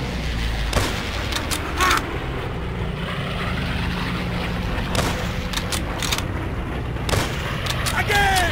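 Sharp rifle shots ring out in Call of Duty World at War, several spaced bursts over a constant low rumble of engines or distant battle, loud and close, with voices in between.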